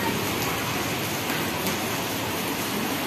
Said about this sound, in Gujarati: અત્યારે તો વરસાદ આવે છે